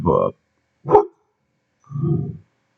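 A dog gives three separate barks with short gaps between them, fairly close and moderately loud against an otherwise quiet room.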